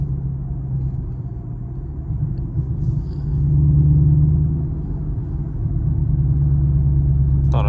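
A Chevrolet Camaro SS engine rumbles low and steady on a night drive, swelling slightly as it builds revs midway, then settling into a deep, continuous cabin drone.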